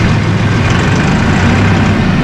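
A 2017 Mahindra 5570 utility tractor with a 70 hp engine runs steadily close by, giving a loud unbroken low rumble with no voices over it.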